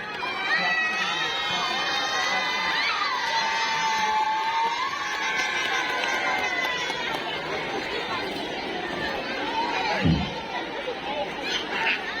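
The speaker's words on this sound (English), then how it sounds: "Give a big round of applause to them." A large crowd cheers and shouts at a school Children's Day event, with children's voices prominent in a loud, steady wall of noise that holds across the whole stretch and lifts briefly near the end.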